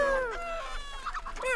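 Hens cluck and cackle in a hen house, several birds calling in bursts with short gliding squawks, close and moderately loud, carrying on alone without any voices.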